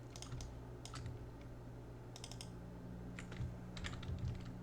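A computer keyboard is typed on in quick bursts of soft clicking keystrokes, pausing briefly between short runs, close and fairly quiet over a faint steady room hum.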